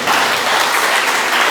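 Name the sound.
congregation applauding in church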